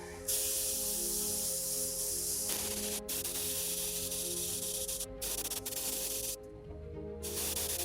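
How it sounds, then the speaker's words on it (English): An airbrush sprays thin coats of glaze onto a painted figure, a steady close hiss that briefly cuts out several times as the trigger is released, with a faint mechanical hum beneath. "actually glazing with the airbrush carefully from the lower side"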